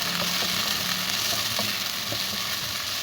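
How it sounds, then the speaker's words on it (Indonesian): Eggplant being stir-fried in a pan, giving a steady, continuous sizzle with faint scraping and stirring clicks throughout, no voices. "Kita osreng-osreng sebentar sampai warnanya berubah"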